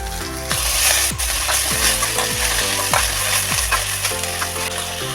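Manathakkali greens fry in a hot pan with garlic, green chillies, small onions and dried red chillies, giving a loud steady sizzle broken by repeated scraping stirs every half second or so.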